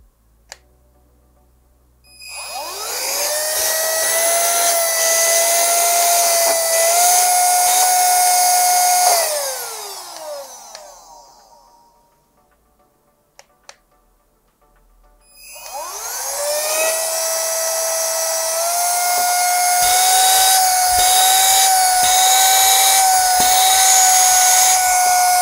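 A Hoco ZP6 Speed cordless car vacuum cleaner switches on twice, each time spinning up into a high whining motor drone that holds steady, then winds down into near silence between runs, close and loud with no talking.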